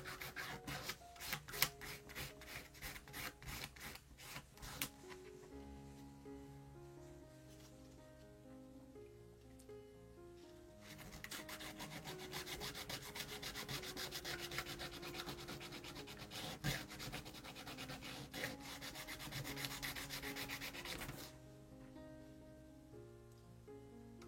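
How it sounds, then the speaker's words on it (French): A homemade quilling tool being filed, with quick rhythmic rasping strokes in two long bursts over soft background music. "On lime."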